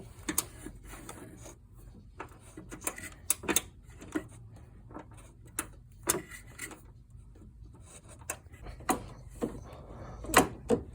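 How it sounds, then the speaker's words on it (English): A coarse-tooth flex-head ratchet turns a bolt during power steering pump replacement on a Jeep Liberty, making sharp irregular clicks and short rasping bursts, close and distinct, with brief gaps between strokes. "this is a really coarse tooth ratchet, so it's not making it easy"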